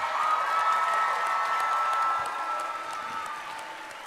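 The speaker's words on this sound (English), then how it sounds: "Give yourselves a hand." Applause from the audience at a morning college graduation ceremony in a large hall, dense sustained clapping that fills the space and slowly fades toward the end.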